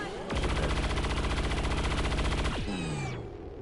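Sustained automatic gunfire from the XCOM 2 video game, a loud rapid burst lasting a couple of seconds that ends with a falling whoosh and ringing tail.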